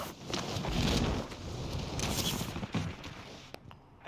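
Gunfire in a shooter video game, a dense, continuous rattle of distant shots and bursts with rumbling low-end, fading slightly near the end and followed by a couple of sharper isolated cracks.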